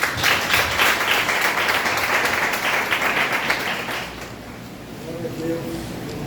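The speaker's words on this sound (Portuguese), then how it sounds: "Você pode aplaudir o Senhor?" A church congregation applauds during a sermon: sustained, dense clapping from a crowd that fades toward the end, when a voice begins speaking over the dying applause.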